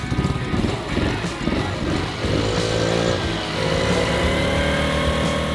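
A small Polaris Outlaw 50 youth ATV engine idles right after starting, a loud, close, buzzy two-wheeler-like drone with slight fluctuations in pitch and throttle.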